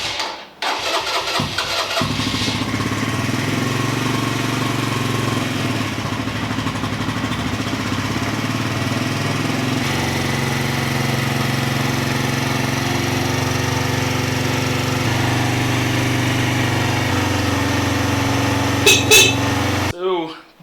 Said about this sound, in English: So, bike fired right up.